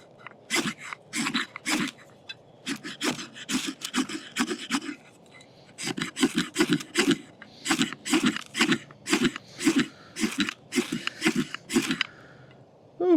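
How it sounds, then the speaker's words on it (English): A TOPS Tahoma Field Knife's spine scrapes a ferro rod in steady, repeated rasping strokes, close and loud, with short pauses between bursts of scraping. "we'll see how well this thing can scrape a ferro rod"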